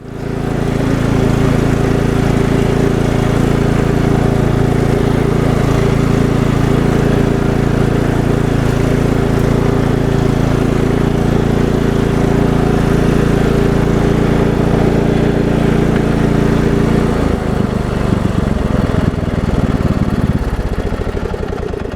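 Cub Cadet lawn tractor with its mowing deck removed, engine running steadily and loud close by, a constant droning hum that shifts pitch near the end as the load changes, no voices.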